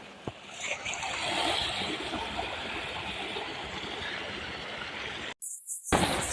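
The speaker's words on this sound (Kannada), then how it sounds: "ನೋಡಿ ಇಲ್ಲಿಂದ ಬರೋದು ನೀರು" Water runs steadily from a pipe in a motor-driven recirculating setup, a continuous close rushing wash that cuts out briefly near the end before resuming.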